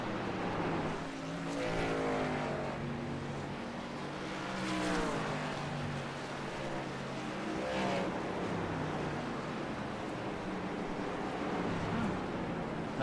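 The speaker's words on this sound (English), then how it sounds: "here's another truck that is totally flying around this field right now" Racing trucks roar around a field track during a Grand Prix race, one of them missing its whole left side. Engine tones rise and fall in overlapping waves as they pass, loud and continuous.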